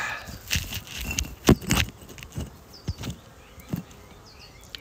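Honey bees buzz around two strong beehives during a February hive inspection, a steady outdoor drone with louder passes as individual bees fly close by.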